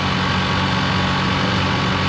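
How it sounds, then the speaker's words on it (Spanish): A motorcycle engine idles on a Costa Rican street, a loud, close, steady low rumble with a fast, even firing pulse that holds unchanged for about two seconds, with no one talking. "ustedes escuchan el sonido de ese motor"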